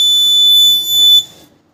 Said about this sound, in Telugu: ఏ ఆబ్జెక్ట్ అడ్డం వచ్చినా మనకు బజర్ సౌండ్ అనేది ఇస్తుంది